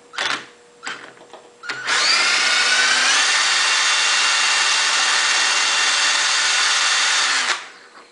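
A cordless drill spinning a car alternator whirs up briefly twice, then runs loud and steady for about five and a half seconds before winding down. No one speaks.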